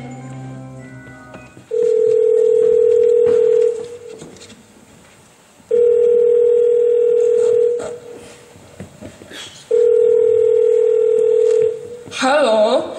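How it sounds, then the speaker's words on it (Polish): Telephone handset: a continuous dial tone sounds in three loud sustained bursts separated by gaps, then a quick run of dialing tones ends the sequence. "Dzwonimy do zielarki. Numer mamy. Telefon też mamy."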